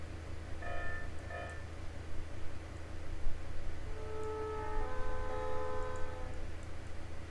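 Bell of an icebreaker locomotive in the Trainz railway game, ringing in short tonal bursts and then a sustained tone, under a steady low rumble of the train.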